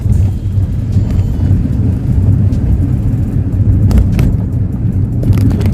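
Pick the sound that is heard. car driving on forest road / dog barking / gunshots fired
car driving on forest road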